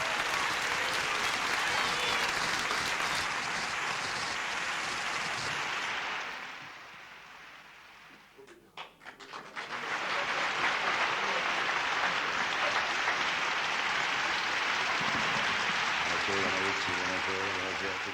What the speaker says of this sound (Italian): vorrei che il vostro applauso si prolungasse anche ai nostri professori d'orchestra